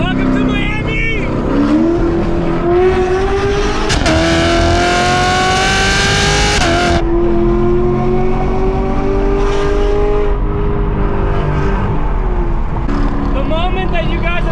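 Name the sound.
Chevrolet Camaro SS engine revving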